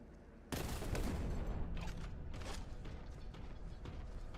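Sustained heavy bolter fire in Warhammer 40,000: Boltgun, a dense, loud roar of rapid shots that starts abruptly and keeps going without a break, with rattling mechanical texture.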